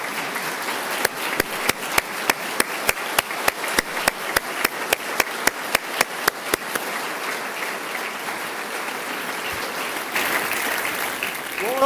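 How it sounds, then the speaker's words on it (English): Applause in a legislative chamber during the Ohio governor's State of the State address, dense clapping punctuated by a regular series of loud, sharp single claps close by, which stop partway as the crowd noise swells. "Give her a round of applause."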